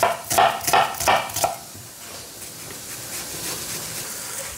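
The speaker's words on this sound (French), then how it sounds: "Ensuite, on va ciseler l'oignon." A knife finely chopping an onion on a board, about four quick, evenly spaced cuts, followed by a steady soft hiss from the kitchen.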